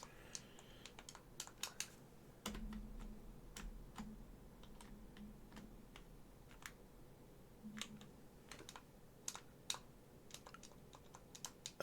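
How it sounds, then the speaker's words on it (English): Keys clack on a computer keyboard during a retro gaming stream, sparse sharp taps scattered across the stretch over a low steady hum, with no talking. "I was pressing enter on my keyboard."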